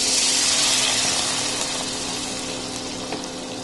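Water pours from a vessel into a pan of browned onions seasoned with salt and turmeric while Maggi masala noodles are cooked, giving a steady close gush that slowly eases over a few seconds with no talking.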